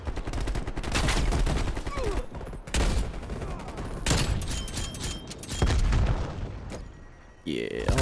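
Sniper rifle shots in Call of Duty: Black Ops Cold War, several loud sharp cracks spaced a second or two apart amid dense game noise, with a player talking over the action.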